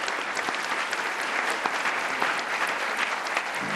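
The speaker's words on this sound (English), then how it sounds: "Let's give a warm round of applause and a special thank you for Jay Byers" A meeting audience gives moderator Jay Byers a warm round of applause, a dense, even wash of many hands clapping that holds steady throughout with no talk.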